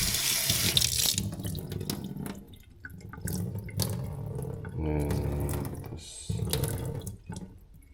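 Water runs from a tap into a patched BMW boxer motorcycle cylinder head during a leak test, a close, continuous splashing and gurgling that shifts in pitch as the cavity fills, with brief interruptions.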